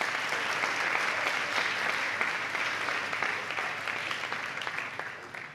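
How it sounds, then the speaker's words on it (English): A crowd at a temple gathering applauds steadily to welcome guests, a dense, even wash of many hands clapping that fades slightly toward the end. "Please give them all a warm round of applause to welcome them all to the temple."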